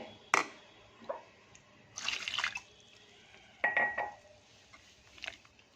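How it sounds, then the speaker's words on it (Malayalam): Water is poured a little at a time into a mixture being stirred, in short splashing spurts with quiet gaps between, close by, alongside faint clinks. "വെള്ളം കുറേശ്ശായിട്ട് ഒഴിച്ചു കൊടുത്താൽ മതിയേ"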